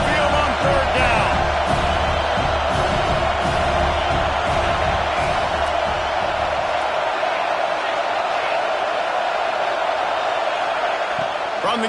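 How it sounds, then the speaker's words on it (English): Loud stadium crowd roaring steadily at a Tide home game on third down in a college football video game, a dense continuous wall of noise with a deep low rumble that fades partway through. "The Tide crowd rolling noise down on the Saban field on third down."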